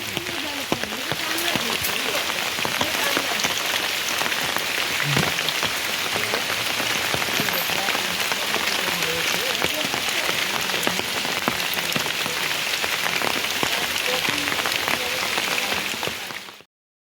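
Heavy rain pounding down in a Konkan village, a dense, loud, unbroken hiss and patter that holds steady until it cuts off abruptly at the end.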